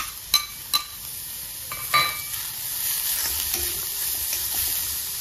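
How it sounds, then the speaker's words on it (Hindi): Chopped garlic added to a pan of browned onions crackles and hisses in hot oil, with a few sharp clinks of a utensil against the pan early on, then a steady sizzle of frying. "और उसके बाद हम डाल देंगे चॉप किया हुआ लहसुन।"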